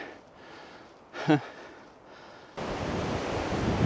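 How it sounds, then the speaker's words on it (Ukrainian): Steady broadband wind rush, quieter at first with a brief gust, then a louder sustained roar buffeting the microphone. "А ще по прогнозу сьогодні сильний вітер."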